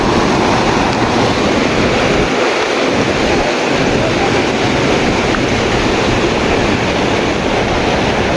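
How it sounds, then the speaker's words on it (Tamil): Floodwater rushing loudly through a river past a Shiva temple on the Rayakottai to Hosur road in Krishnagiri district, a dense continuous roar with wind buffeting the microphone. "பயங்கரமாக வந்துட்டுருக்கு தண்ணி ஃப்ரெண்ட்ஸ்."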